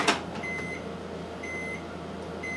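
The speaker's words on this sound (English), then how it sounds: "I put it in the microwave for about 10 seconds at a time." A microwave oven heating melt-and-pour soap base: a click as the door shuts, then three beeps in a steady rhythm over the oven's low hum, close by.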